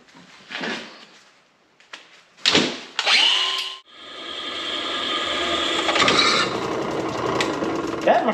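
A power drill boring a hole through metal while fitting a car seatbelt bolt, with a few clunks and short whirs, then a long steady grinding drone close up.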